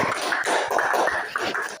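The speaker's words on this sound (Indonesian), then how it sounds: "Ya, beri aplaus." Classroom applause from a group of students, a burst of brisk, dense clapping heard close and fairly loud for nearly two seconds before stopping.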